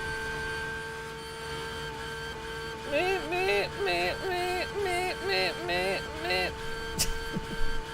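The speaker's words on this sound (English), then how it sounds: "That's the sound of the car" A race car engine in a Le Mans sim racing game revs up and down in a rhythmic series of rising and falling pulses, sounding clear over a steady background hum.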